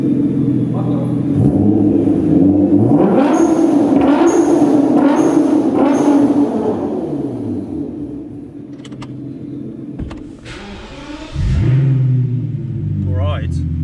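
A straight-piped BMW V12 revs hard and loud, its engine roar swelling and falling in repeated pulls before settling into a rumbling idle, then surging again near the end.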